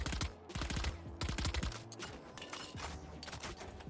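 A Spectre submachine gun fires in a video game, loosing rapid bursts of crisp automatic shots up close. Mechanical clicks and rattles follow as the firing stops.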